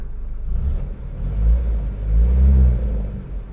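A 1968 Citroen ID19's engine revs in deep rumbling surges, rising twice and easing back, close by and with no talking.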